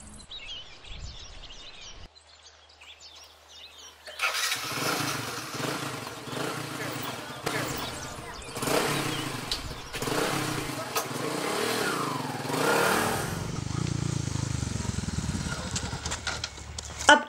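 A new scooter that has run out of fuel sputters and labours with an uneven, pulsing engine drone that cuts in and out. Voices talk over it and birds chirp faintly.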